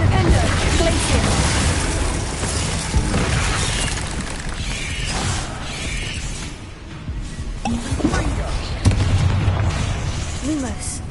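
Bombarda explosion spells boom and shatter in the video game Hogwarts Legacy, dense bursts layered over constant game noise and shouted spell names, loud and busy throughout.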